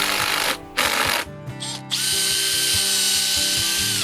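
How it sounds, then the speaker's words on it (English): A power drill whines loudly in short bursts, then runs steadily, grinding into material with a rhythmic knocking underneath. "Pre-drilling is always an advantage, but especially for something like these garden stakes"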